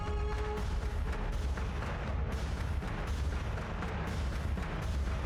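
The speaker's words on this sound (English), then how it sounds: "that's still a lot of Battlestar artillery" Battlestar artillery fire in the space strategy game Battlestar Galactica: Deadlock, a dense, continuous barrage of rumbling booms and bursts that stays loud and unbroken throughout.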